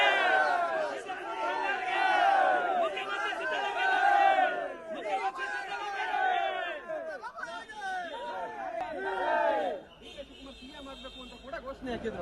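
Congress party workers at a cadre event in Mangaluru chant slogans for DK Shivakumar, a large crowd shouting in rhythmic surges with overlapping voices and cheering, breaking off into looser babble near the end.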